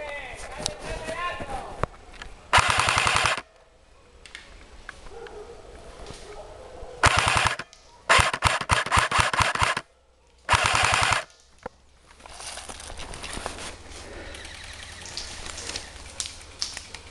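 Rapid bursts of gunfire from a hunt after red foxes in the outdoors, several loud automatic-sounding volleys separated by quieter stretches of ambient noise and rustling.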